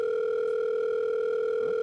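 A steady telephone dial tone in the video game Arma 3, a clean continuous electronic hum that holds unbroken for about two seconds with faint background noise beneath.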